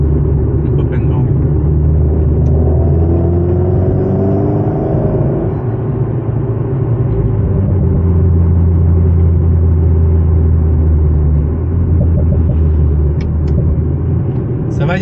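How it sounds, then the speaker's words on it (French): An Alpine A110S sports car engine rumbles steadily and loudly up close, with a few sharp exhaust pops and crackles near the end and a voice heard faintly at times. "Là, le petit crépitement, là, c'est sympa aussi. Le pop and bang."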